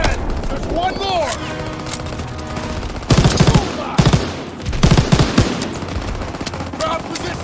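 Automatic and rifle fire in the World War II shooter Call of Duty WW2, with rapid bursts of shots growing louder in the second half among battlefield noise, and soldiers shouting in the background.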